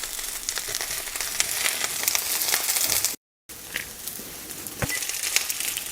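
Brussels sprouts frying and charring in a hot pan, a steady close sizzle and crackle with a few sharper pops, briefly cut to silence midway.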